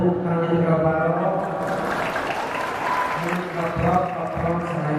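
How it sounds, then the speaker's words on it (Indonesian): Audience applause in a hall during a shalawat gathering at Padepokan Mayang Sunda in Bandung, a steady wash of many hands clapping together with voices and singing mixed in underneath. "Semangat tepuk tangan kabarok."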